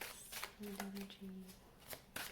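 A deck of cards being shuffled and a card drawn, with soft papery riffles and flicks, close and quiet, alongside a brief low hum and some talking.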